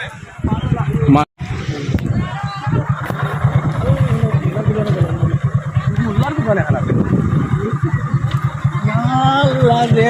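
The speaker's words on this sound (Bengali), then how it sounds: "এই রাস্তার উপর দিয়ে আমরা যাচ্ছি। ওই দেখেন আপনারা, একটা বাইক নিয়ে যাচ্ছি আমরা।" A motorcycle carries riders along a road through floodwater from the Katakhal river in Assam. Its low, pulsing engine runs steadily close by, and people talk over it almost the whole time.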